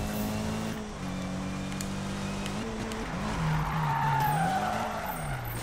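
Need for Speed 2015 car drifting through a tight curve with sustained tire squeal and skidding over a steady engine drone, loud and close, rising and bending in pitch as the slide continues.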